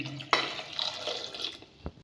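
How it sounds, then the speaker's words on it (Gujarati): Two glasses of water poured into a pot holding four potatoes for boiling, a close splashing pour starting abruptly and running for over a second, followed by a couple of drips and a clunk. "બે ગ્લાસ જેટલું પાણી રેડીશું"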